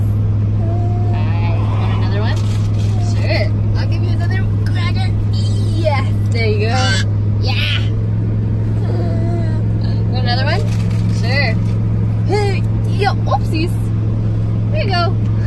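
Steady engine drone and road rumble inside a moving car, a constant low hum throughout while people chat and laugh over it.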